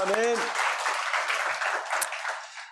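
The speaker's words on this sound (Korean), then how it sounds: "우리 하나님께 영광의 박수 올려드리겠습니다." A church congregation at a Sunday worship service breaks into full, continuous applause just after a single voice speaks briefly, the clapping filling the room and tapering slightly at the end.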